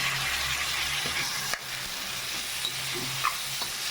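Moth beans (matki) fry in a pan with a steady broadband sizzle, broken by occasional stirring scrapes and clicks, close and continuous with no talking.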